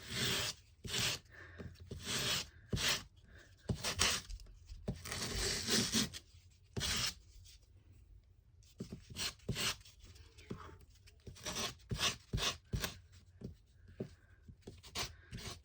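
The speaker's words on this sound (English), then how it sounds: "Let's try the sandpaper on some of this, because this stuff is really sturdy." Sturdy paper edges are rubbed with sandpaper in bursts of close, dry, raspy scraping, some long strokes and many quick short ones, with brief quiet gaps and faint whispery sounds between.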